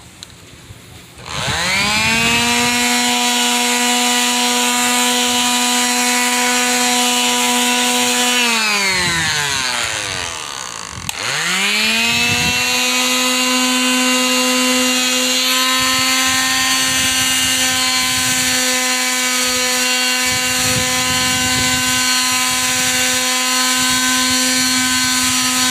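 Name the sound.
power sanding of a wooden truck backseat bed frame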